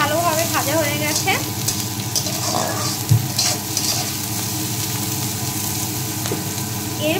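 Cabbage frying uncovered in a pan gives a close, steady sizzle with scattered stirring scrapes and clinks.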